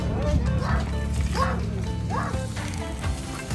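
A trained dog barking at a dog park on Necklace Road in Hyderabad, a few short yips and barks amid steady background noise.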